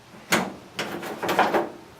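A spring-loaded door latch on a vintage hot rod being worked by hand gives three distinct mechanical clicks and clunks spaced about half a second apart, close and dry with no talk.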